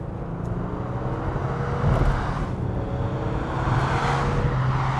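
A Volkswagen Touareg 3.0 TDI R-Line SUV on winter tires accelerates, its diesel engine a steady low drone heard from inside, with road noise that swells slightly partway through.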